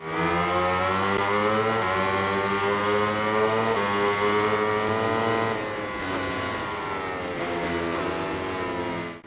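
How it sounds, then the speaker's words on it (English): Several high-revving racing motorcycle engines in MotoGP 20 on Nintendo Switch whine together in a steady, loud drone, their pitch sliding slightly up and down with no voices. "the main sound that you will hear is of course the sound of the engines during the races"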